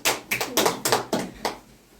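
Pupils in a classroom clap briefly for a classmate who answered correctly, a short burst of a few loose claps close by that fades within two seconds.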